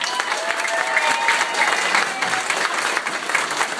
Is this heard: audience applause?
yes